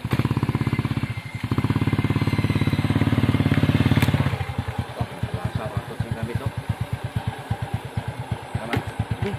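A motorcycle engine runs close by, revving loudly at first, then dropping to a steady, chugging idle.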